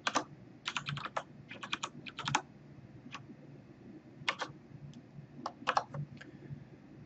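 Typing on a computer keyboard, with irregular bursts of crisp key clicks spread across the whole span and short pauses between runs, close and fairly quiet over a low background hum.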